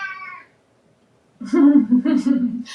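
A pet cat meows loudly and close by in a few drawn-out, wavering calls, with a brief earlier cry trailing off into a pause before the longer meows.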